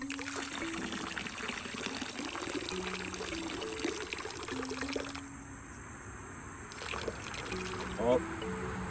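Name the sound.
pouring water into a container of lampreys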